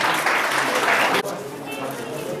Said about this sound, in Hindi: आप जोरदार तालियों से उनका स्वागत करें